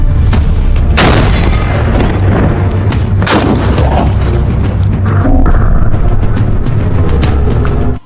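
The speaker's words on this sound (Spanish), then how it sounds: "El sonido del disparo era un estruendo que cortaba el aire" Two heavy blasts from a PTRD anti-tank rifle, loud and close, each a sharp crack swelling into a deep rolling boom, followed by a sustained low rumble that carries on to the end.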